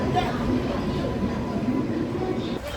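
A steady, dense rumble of a special passenger train in Goa fills the scene throughout, with a constant low roar and voices murmuring faintly in the background.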